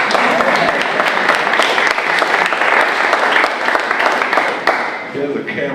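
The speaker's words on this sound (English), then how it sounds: "Come on, we can clap." Audience clapping at a smart-cities panel event, a loud, dense burst of applause with sharp individual claps standing out, thinning slightly near the end as a voice begins.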